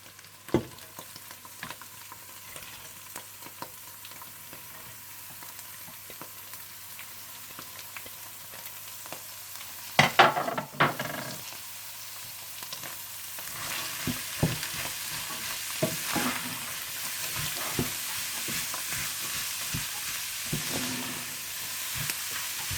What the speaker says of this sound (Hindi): जब कीमा अच्छा सा भून जाए तो आप इसमें गाजरें और सैलरी डाल दें और अच्छा सा भून लें